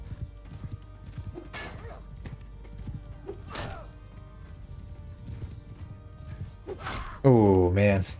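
Horse hooves from a horse archer in a medieval Varangian Guard video game clop rhythmically under a talking player, with thuds and a neigh near the end.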